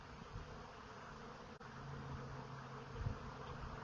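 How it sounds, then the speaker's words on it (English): A swarm of honeybees buzzes as a steady, close drone. A low hum rises slightly near the end. "This is a swarm of honeybees."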